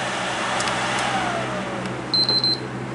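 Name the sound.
PlayStation 3 cooling fan running fast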